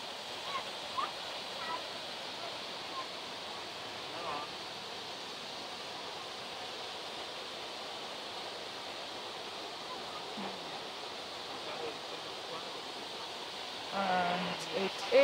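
Boyana Waterfall on Vitosha mountain in winter gives a steady, even roar of falling water, heard from some distance without a break, with a few faint knocks near the end.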